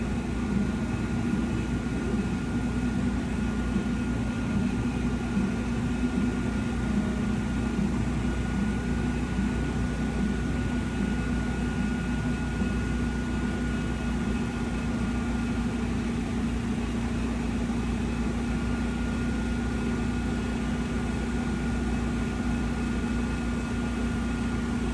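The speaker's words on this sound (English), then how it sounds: "Let me get the hose on here and let's pump up these tires." A portable air pump runs steadily through a hose, inflating the tires of an air-cooled drag racing car in Texas; a constant buzzing mechanical drone holds at even loudness throughout with no talk.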